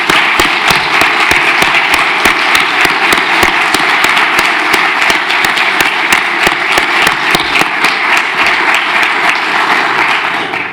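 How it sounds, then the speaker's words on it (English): A large audience at an award presentation for the 2025 Swanson Award applauds both winners, a loud, dense, sustained ovation of many hands clapping continuously for over ten seconds with no talking. "I feel like we have to have one more round of applause for both winners"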